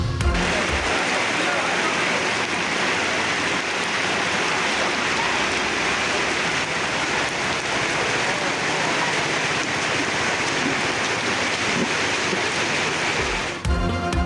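Heavy, continuous downpour with rushing floodwater in the streets of Rawalpindi's Raja Bazaar, a loud, unbroken hiss and wash of water close by from start to finish.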